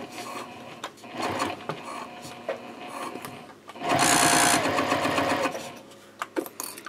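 A sewing machine runs basting stitches about 1/8 inch from the edge of a baby sling's exterior and lining, set to stitch length 3.0. It hums steadily in bursts, louder and faster near the middle, with small handling clicks between runs.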